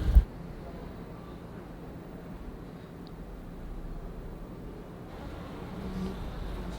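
A steady, low buzz of honey bees rises from a small breeding nucleus hive used for testing queens, a continuous hum with a brief knock at the start.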